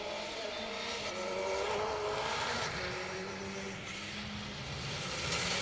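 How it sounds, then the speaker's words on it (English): Ford Fiesta rally car passing on a special stage of the Cambrian Rally, a distant engine note rising and falling over continuous outdoor rushing noise, moderately faint throughout. "Another of the Fiestas. This time car 58."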